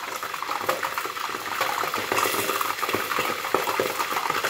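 Cold oil spattering in a covered frying pan while frying pastel frito, a dense, close crackle of pops and hisses that stays steady and loud throughout.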